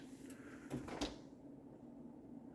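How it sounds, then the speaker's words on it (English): A few quick knocks and a soft thud as the door of a Frigidaire freezer, model FFUE2022AW, pushes shut, followed by a low steady hum. "The door does a pretty good job of closing on its own."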